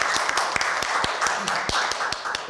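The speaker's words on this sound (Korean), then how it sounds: "이인영 의원께 따뜻한 우리 격려의 박수를 한번 부탁하겠습니다" Audience at a policy seminar applauding lawmaker Lee In-young, steady clapping from many hands in an indoor hall with distinct sharp individual claps over a continuous wash.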